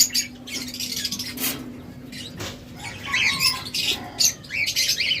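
Caged budgerigar pairs for sale, including a violet opaline pair, chirp and squawk in bursts of sharp, close calls over a faint steady hum, with no voices.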